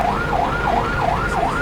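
An ACLS ambulance siren in wail mode sweeps up and down in a steady, repeating rise-and-fall cycle, loud and close, with a faint engine hum beneath.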